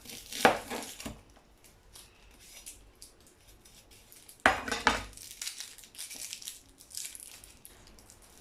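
An onion chopped on a board while cooking braciolette, two separate bursts of sharp knife strikes a few seconds apart, close and crisp, with quieter handling noises between them.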